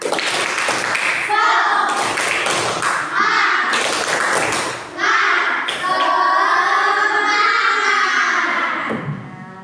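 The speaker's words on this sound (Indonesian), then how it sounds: "kita tepuk semangat dulu" Children in a classroom doing a rhythmic spirit clap before a lesson, with sharp bursts of clapping at the start giving way to sustained chanting voices over a steady beat, close and loud.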